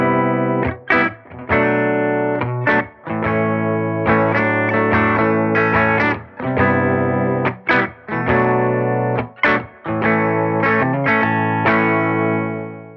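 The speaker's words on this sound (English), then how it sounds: "Silktone amp sounds like this." Distorted electric guitar with an LED distortion pedal, played through a Silktone amp, chords strummed in bursts with brief gaps between phrases, loud and close with a chorus-like shimmer.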